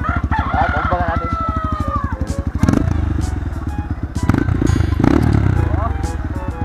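Loud, rapid thumping exhaust pulse of a modified enduro motorcycle with a tampered muffler, revving up and down up close, while a rooster crows and chickens cluck nearby and people talk.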